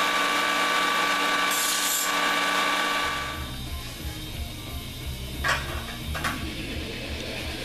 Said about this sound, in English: now I'm going to cut some angle aluminum to fit inside there